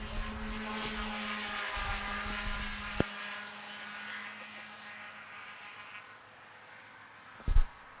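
Racing hovercraft engines at a Towcester event drone loudly with a steady buzzing whine that gradually fades into the distance, followed by a short rumbling burst near the end.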